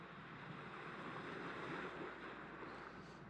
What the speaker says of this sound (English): just listen to the sweet sounds of the ocean.